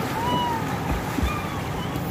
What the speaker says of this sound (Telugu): Athirappilly water falls.